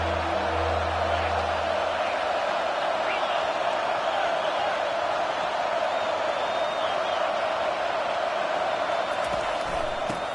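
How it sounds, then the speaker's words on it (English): Stadium crowd in a College Football 25 video game, Georgia vs LSU: a steady, wide roar of cheering fans holding at an even level throughout. "This crowd knows when to bring it."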